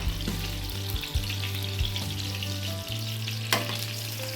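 Eggplant frying in hot oil in a pan, a steady close sizzle with occasional stirring scrapes and clinks, no talk.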